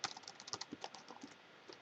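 Keys clatter on a computer keyboard in quick irregular taps while a short line of text is typed, close and fairly quiet, with no talk.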